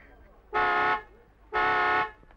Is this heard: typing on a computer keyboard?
no